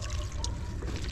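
Water is poured onto freshly sown vegetable seeds in a garden bed, a short, soft splash and trickle that lasts about a second.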